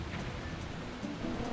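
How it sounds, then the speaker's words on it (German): A waterfall in the Zelda Twilight Princess HD video game gives a constant broadband rushing roar, steady and fairly soft throughout, with no voices. "Aber vorsichtig mit diesen, mit dem Wasserfall."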